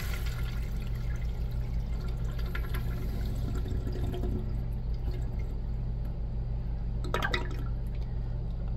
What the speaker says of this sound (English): Let's take a look at a flush.